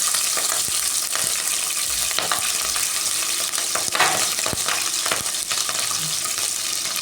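Green chillies sautéing in a pan for a ridge gourd stir-fry, a loud, steady sizzle and crackle broken by repeated sharp spatula scrapes and clicks, with no talking.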